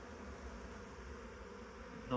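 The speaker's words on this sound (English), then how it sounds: "So big bees like this," A steady, dense hum of a honeybee colony buzzing in a winter hive, constant and low, filling the whole stretch without pause.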